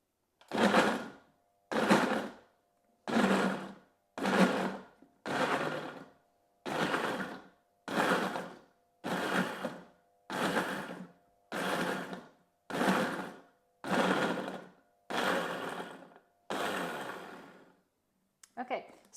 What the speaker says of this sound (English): I'm going to blitz this with the food processor.